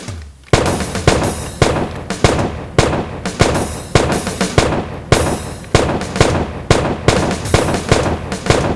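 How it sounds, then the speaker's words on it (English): Rifle volley of a 21-gun salute for a fallen hero, sharp loud cracks fired in a steady rhythm about every half second, each ringing briefly before the next. "21 gun salute to a fallen hero! Fire!"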